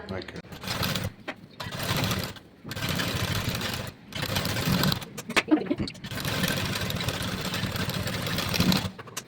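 A sewing machine runs in bursts while stitching a blouse, whirring steadily in several close, loud stretches separated by brief pauses. A person talks between and over the runs.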